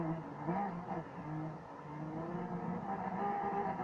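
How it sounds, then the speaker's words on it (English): A Lamborghini Veneno spins donuts in the Need for Speed racing game, its engine holding a steady, sustained whine with wavering pitch from the tires and motor, moderate and continuous with no talking. "Though, for the ending, I'm gonna do some donuts."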